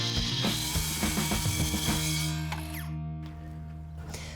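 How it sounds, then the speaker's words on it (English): A saw cuts wood while riding along a clamped guide board, a steady close mechanical whine with rhythmic grinding pulses that stops abruptly near the end. "when we put the saw, it runs along the wood and it cuts exactly on our line"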